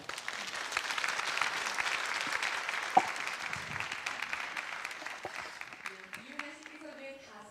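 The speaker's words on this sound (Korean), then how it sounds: "여러분 박수로 맞아주세요" An audience claps to welcome a pansori singer onstage at a youth economics concert, a dense, steady wash of many hands that thins out toward the end as a voice begins over it.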